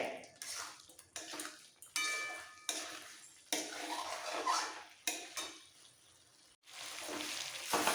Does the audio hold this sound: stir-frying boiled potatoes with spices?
yes